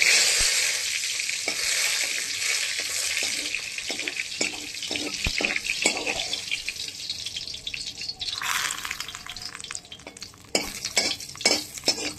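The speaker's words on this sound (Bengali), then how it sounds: "এখন আমি শুকনো লঙ্কা ফোড়ন আর জিরে ফোড়ন দিয়ে সম্বার দিয়ে দেবো ডালে।" Dry red chilli and cumin seeds sizzle loudly in hot oil as a tempering for dal, a steady close frying hiss broken by clicks of stirring and a sharp burst of sizzle near the end.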